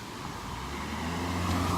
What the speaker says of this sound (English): Wait till the car passes.